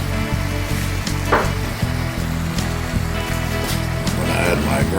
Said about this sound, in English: So this is my stir-fry shrimps, okay?